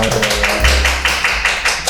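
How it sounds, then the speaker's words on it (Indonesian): A small podcast studio audience gives a short burst of clapping for guest Gratiana, close and fairly loud, with distinct rhythmic claps and a voice talking over it. "tepuk tangan untuk Kak Gratiana dong"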